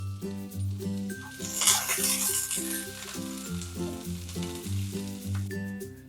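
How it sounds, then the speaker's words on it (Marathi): Chopped onion frying in two tablespoons of oil in a pan for Kolhapuri misal, a steady close sizzle running throughout with a repeating tonal music bed layered over it. "यामध्ये आपण जो मोठा कांदा चिरून घेतला होता तो आपण छान असा ब्राऊन रंग येईपर्यंत परतून घेणार आहोत"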